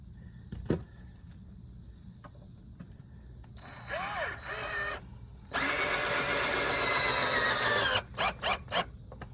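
A power drill whines as it drives screws into a deck board: two short bursts, a long steady run, then three quick pulses, close by with no talking.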